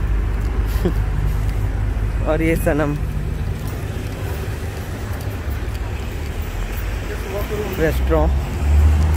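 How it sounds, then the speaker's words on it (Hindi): Busy road traffic rumbles through a street in an Asian neighbourhood of Manchester, a constant low roar of passing vehicles with a couple of horn-like tones, while someone talks over it. "यहाँ पे बहुत ट्रैफिक रहता है as compare to other part of Manchester"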